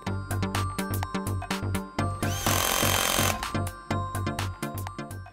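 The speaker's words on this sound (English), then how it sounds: "Connect the green ground wire to the ground screw and tighten the screw securely." A power tool drives a screw into a C-face boat lift motor in quick repeated pulses, with a brief continuous whir in the middle. The sound is close and loud, and no one speaks.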